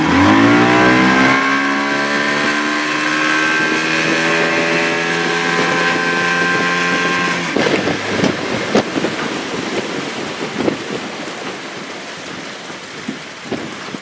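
A fast Lund motorboat accelerating at full throttle: a loud engine whine climbing steeply in pitch for several seconds, then giving way to rough hull slap, wind and water noise.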